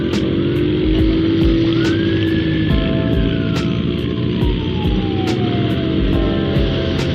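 Motorcycle club passing noisily on a road near Lembang, engines droning loud and close with rising and falling revs, rhythmic clicks over a steady roar.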